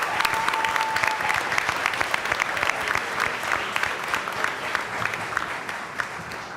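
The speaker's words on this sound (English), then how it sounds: "Let's give them one last final round of applause for your contribution to the district." Board of education meeting audience applauding retirees, a steady round of many hands clapping at moderate distance with crisp individual claps standing out, continuing evenly throughout.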